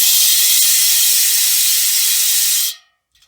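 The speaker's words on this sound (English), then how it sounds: "This is the Elite rear hub, 204 points of engagement" A Profile Elite rear bicycle hub with 204 points of engagement freewheels, giving a loud, close, rapid buzzing ratchet whir that holds steady and then cuts off abruptly.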